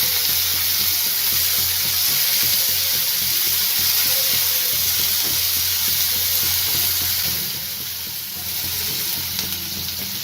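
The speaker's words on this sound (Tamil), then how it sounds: "எல்லாம் சேர்த்து வதக்கிக்கலாம்." Steady sizzling of chopped onions, green chillies and spices sautéing in a pan with occasional stirring scrapes, continuous and fairly loud, dipping slightly near the end.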